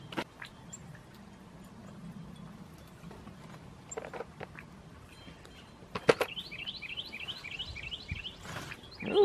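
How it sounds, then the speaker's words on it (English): Birds chirp outdoors in warm weather, with scattered faint tweets and then a quick run of repeated rising chirps near the end, over soft background noise. "The birds are chirping."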